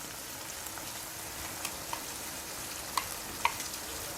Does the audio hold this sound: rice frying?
yes